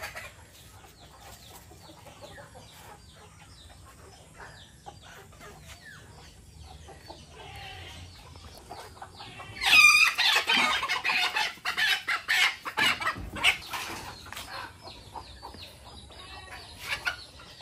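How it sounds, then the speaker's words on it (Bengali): Chickens and roosters in a coop, birds lining up to go inside: steady clucking through the clip, then a loud crow and busier calls breaking out near the middle, fairly close, with no talk. "মোরগ মুরগি সিরিয়াল ধরে আছে, মানে সব ঘরে ঢুকবে"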